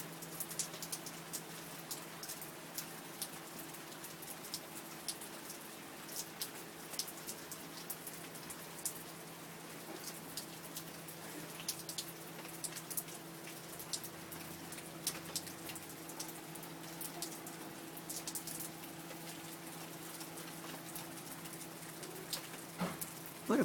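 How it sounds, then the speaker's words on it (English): Steady rain falling outdoors during a cool storm, a continuous soft patter of drops hitting surfaces with faint bird calls in the background and no talking. "The sound of rain."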